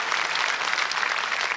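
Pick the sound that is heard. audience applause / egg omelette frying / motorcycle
audience applause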